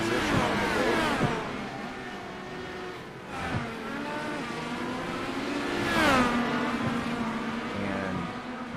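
IndyCar race cars at Barber in iRacing, high-pitched engines revving and sweeping through gear changes as cars pass close by, loud and continuous with rising and falling whines.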